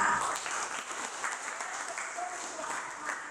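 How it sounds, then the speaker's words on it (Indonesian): Applause from a class of students greeting their nursing lecturer, a steady spread of hand claps lasting the whole moment, fairly close with no talk over it. "Oke, aplaus untuk ya semua"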